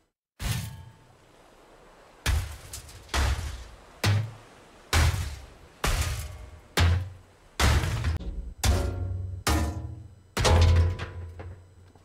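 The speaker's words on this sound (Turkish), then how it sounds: "Çekiç." Hammering in the video game Ship Graveyard Simulator, about ten heavy metallic thunks spaced roughly a second apart, each with a short ringing decay, loud and close with no talk.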